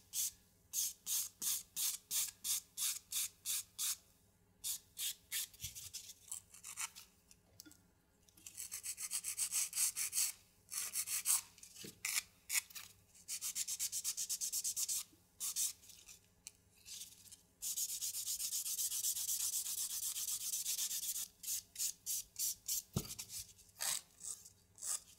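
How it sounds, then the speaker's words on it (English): Nails coated with a jelly top coat being buffed, heard as close, rhythmic rubbing strokes in quick bursts that alternate with longer sustained scrubbing passages. "You can see by buffing that we're kind of just catching those clear parts."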